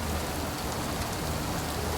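Steady rain falls throughout a scene in the cyberpunk video game Born Punk, a dense, even hiss of drops on surfaces with no voices.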